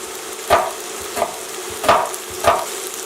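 Beef stroganoff pieces brown in a hot pan, frying with a steady sizzle broken by four stirring scrapes at regular intervals.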